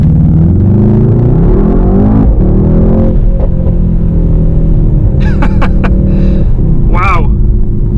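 Mercedes-AMG GT 63 S 4-Door Coupe, a 2019 model with a 639 hp V8 and 4MATIC drive, pulls hard from a fast start at about half throttle. A loud, steady engine roar rises through gear changes, with a voice speaking over it.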